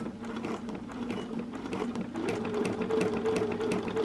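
A sewing machine stitches steadily during free motion quilting, a fast even whirr with rapid needle ticks that speeds up slightly toward the end, heard on its own with no voices.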